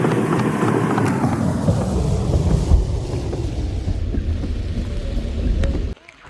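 Heavy monsoon rain pours steadily at Tiger Point in Lonavala, a dense, loud hiss with low rumbling wind buffets that cuts off abruptly near the end.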